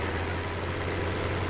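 A truck engine rumbles steadily in a farming simulator game, a constant low, heavy drone with a high whine, loud and unchanging throughout the short stretch with no speech.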